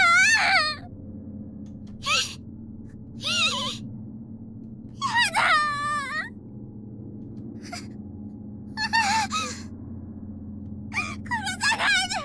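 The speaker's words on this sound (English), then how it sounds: "These are the panic primal screams of a person's last moments on Earth." Repeated panicked, wailing screams of a dying person in the horror game Corpse Party, several sharp bursts separated by pauses over a steady low droning background.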